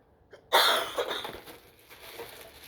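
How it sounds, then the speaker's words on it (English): A person coughs once, close and sharp, during an indoor unboxing of 1990-1993 Toyota Celica bumper and corner lights, followed by a few seconds of fading rustle and room noise. "my cameraman's coughing a little bit."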